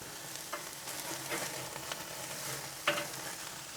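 Flame-grilled burger patties for a bacon cheeseburger sizzle steadily on the grill, with a few soft scraping clicks and one sharp spatula knock as they are turned; no talk.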